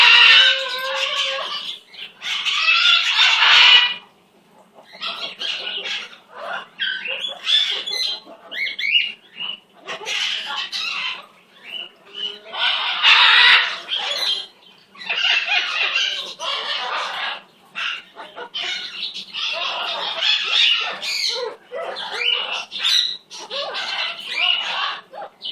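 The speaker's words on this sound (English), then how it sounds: "Ah, there's my baby. That's my baby bird." Merlin, a pet bird, squawks loudly and repeatedly at close range in harsh, raspy bursts separated by short pauses, with brief quieter chirps in between.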